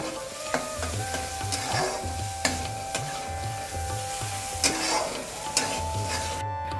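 Fried rice being stirred into a sizzling mixture in a pan, with steady frying hiss, repeated scraping strokes and occasional sharp utensil clinks against the pan.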